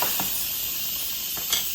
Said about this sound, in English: Let the rest of the steam come off.